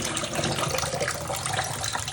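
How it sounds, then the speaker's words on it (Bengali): Raw mutton being rinsed in water, a steady close splashing and sloshing gush like a running tap, with no talk. "তো মাংস ধুয়ে নিচ্ছি, 2-3 বার ধোয়া হয়ে গেছে"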